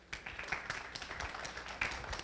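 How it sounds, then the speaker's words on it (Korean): An audience at a lecture on digital transformation for small businesses claps in scattered, moderately close bursts, uneven in rhythm and fairly subdued. "박수 쳐주십시오."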